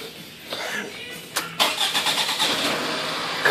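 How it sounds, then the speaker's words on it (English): A car engine cranks in a few short bursts, then catches and runs with a steady, pulsing idle, heard close up during a spark test with a light tester. "we're going to turn this car on"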